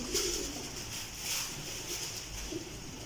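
Teddy pigeons coo softly and repeatedly at close range, low throaty calls rising and falling over a steady background hum.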